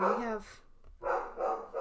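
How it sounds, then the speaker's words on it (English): A pet dog in a home surrounded by neighbours barks in a couple of quick bursts, close and fairly loud, with a person talking around the barks. "she just starts barking like crazy"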